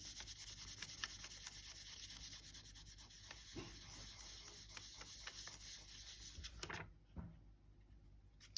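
Polymer clay is burnished smooth by hand to press out air pockets, a faint, steady, soft rubbing hiss with occasional small taps, close up and quiet before it stops near the end.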